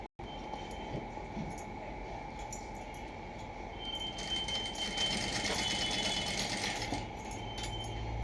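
Sewing machine running a straight seam along the piping of a plain blouse, a steady quiet mechanical hum with a brief start and a busier, slightly louder clatter in the later part.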